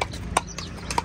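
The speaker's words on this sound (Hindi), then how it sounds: "हॉर्स राइड स्टार्ट हो गई।" Hooves clip-clop during a horse ride on a trip to Ooty, with a few sharp, close hoof strikes over a low outdoor background.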